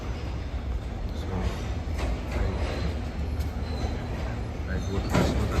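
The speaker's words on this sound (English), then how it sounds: "I have to take this train to go to Liverpool Street." A London Underground tube train near Aldgate East rumbles steadily with a loud low roar, rattling carriages and brief squeals, while a voice talks over the noise.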